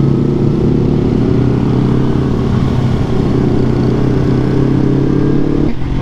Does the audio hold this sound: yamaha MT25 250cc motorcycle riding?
yes